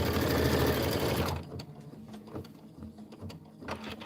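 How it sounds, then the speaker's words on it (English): A sewing machine stitching a quilting stitch runs at fast, steady speed for just over a second, then stops, leaving a faint, quiet room with small scattered clicks. "This quilting stitch is super fast."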